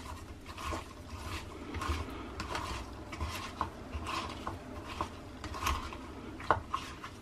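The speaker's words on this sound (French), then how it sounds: "Une autre technique consiste aussi, pour les ramollir, à mettre un peu de sel et à bien mélanger tout ça." Salted vegetables for sunomono are stirred and mixed in a bowl, giving a series of soft, wet rubbing and scraping sounds with occasional light clinks, heard up close and in an irregular rhythm.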